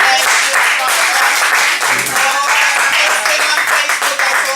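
An audience applauds steadily at a live talk show, a continuous dense patter of clapping mixed with voices and some cheering.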